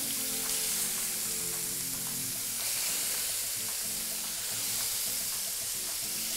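Chicken fajita sizzles on a hot grill with vegetables, a dense, steady, close hiss of frying that carries evenly from start to finish with no voices.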